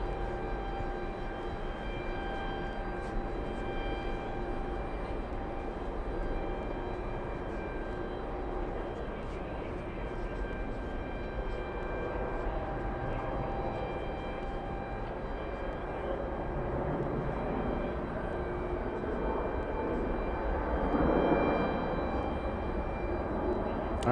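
An All Nippon Airways airliner departs JFK airport, its jet roar a steady, fairly distant rumble that holds for over twenty seconds and builds slightly near the end.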